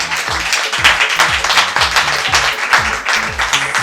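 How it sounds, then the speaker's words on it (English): At a book launch, the crowd gives the young author a lively round of applause, with clustered hand claps running continuously throughout. "She deserves a huge round of applause for that"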